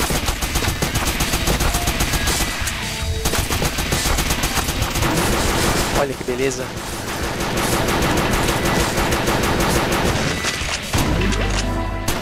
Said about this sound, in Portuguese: Aqui os tiros vão varar os inimigos